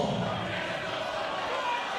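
Dense, steady roar of a split crowd at an English super welterweight title boxing bout, Bolton versus Derby fans creating a football-style atmosphere, with continuous chanting and cheering and no clear pauses.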